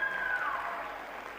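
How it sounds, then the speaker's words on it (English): A crowd at a Tangibles event claps for the speaker's sister, a brief, fairly soft spread of applause with a faint tonal sweep passing through it. "Please, can you give her a round of applause?"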